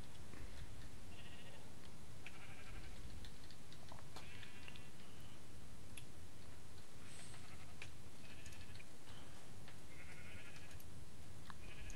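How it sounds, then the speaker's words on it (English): Sheep bleating in the Minecraft video game, repeated short calls scattered across a steady background hiss, no talk. "So many sheep."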